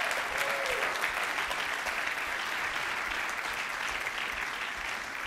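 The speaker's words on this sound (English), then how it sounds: "Can you please join me in giving them a real round of applause?" Steady, dense audience applause at a 2011 Endeavor Entrepreneur Summit in San Francisco, a continuous wash of many hands clapping at even loudness for the whole stretch, with no speech over it.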